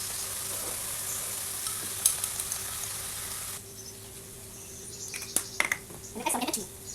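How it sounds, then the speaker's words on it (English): Egg poured over onion in hot oil sizzles and fries steadily in a pan, a constant bright hiss that drops in level midway, then crackles with a few sharper spatters and stirring clatters near the end. "And now I pour some egg into the pan."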